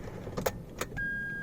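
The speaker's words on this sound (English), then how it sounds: "I'll turn on this car by using the key" A Hyundai Santro Magna is started with the key: a couple of sharp clicks and key jingles, then a steady, even hum takes over, all close by with no talking.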